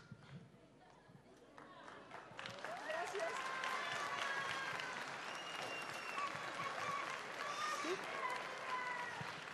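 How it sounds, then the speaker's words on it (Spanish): Applause from a large standing crowd at a Recycler's Day event in Ecuador builds after a quieter start, then holds as steady, dense clapping with some cheering mixed in. "Y con ese aplauso de todos de pie"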